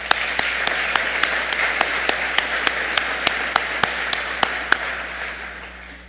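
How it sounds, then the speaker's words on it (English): Sparse, faint clapping from a convention meeting audience, a few distinct sharp claps standing out in a regular pattern over a quiet room hum, tapering off at the end. "Please give yourself a round of applause."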